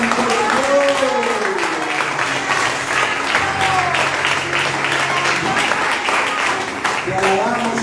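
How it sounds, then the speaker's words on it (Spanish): A church congregation applauds steadily throughout, a dense, sustained wash of clapping while a preacher's voice speaks over it at intervals. "Vamos a darle un fuerte aplauso al Espíritu Santo de Dios."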